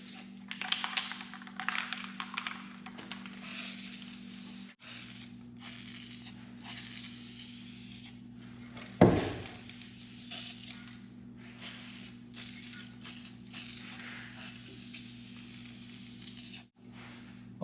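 Rust-Oleum hammered paint and primer in dark bronze sprayed onto pipe handrails in short and long hissing bursts, with brief pauses between them and one louder knock partway through.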